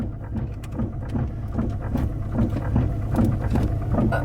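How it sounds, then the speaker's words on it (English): Windshield wipers sweep back and forth in a rhythmic, steady cycle about twice a second inside a car during a driving lesson, with a low engine-and-rain rumble beneath and no talking. "Turn the windshield wipers off. It's annoying"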